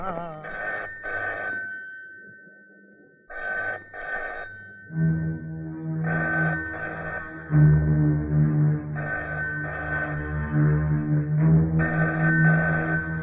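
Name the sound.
telephone ringing in a police station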